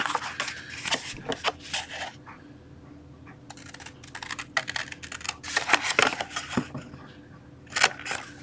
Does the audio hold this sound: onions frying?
no